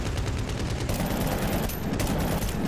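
Rapid automatic AKM rifle fire in the video game Medal of Honor: Warfighter, in dense, continuous bursts, loud and close, with no voices over it.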